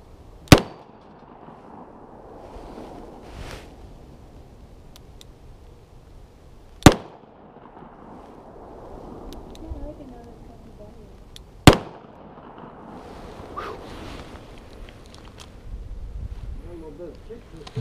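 Three sharp gunshots from a Smith & Wesson Governor revolver crack out at roughly even intervals, each a loud isolated bang with long gaps of quiet outdoor ambience between them.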